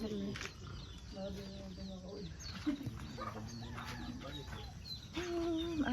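Chickens cluck and call around a campsite on a mountain, several short bursts scattered over a steady outdoor background, mixed with people talking nearby.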